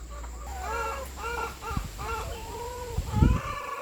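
Laying hens in a poultry house cluck and squawk in a steady, busy chorus before feeding, with one louder close burst near the end over a low background hum.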